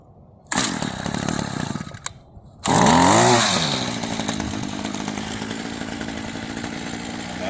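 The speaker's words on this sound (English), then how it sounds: "And that's how we start the trimmer." A gas string trimmer is pull-started nearby. A first rough burst of engine noise cuts out, then the engine catches, revs loudly and settles into a steady high-pitched idle.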